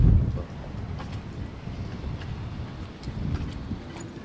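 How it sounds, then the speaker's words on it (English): Steady outdoor wind of about 25 knots buffeting a microphone while sailing in the Caribbean, a low rumbling roar that holds throughout with slight surges, no voices. "got a beautiful wind today"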